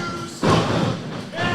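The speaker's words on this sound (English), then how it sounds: "he's just feeding knees and a double underhook suplex. Plants Kekoa in the middle of the ring." A wrestler slammed onto the ring mat by a double underhook suplex at an indie wrestling show, one heavy booming thud followed by crowd noise and a commentator talking.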